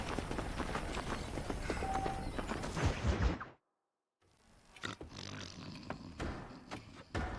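Horse hooves clip-clopping in the Red Dead Redemption game, steady muffled thuds that cut out to silence briefly and then resume with a few sharper knocks.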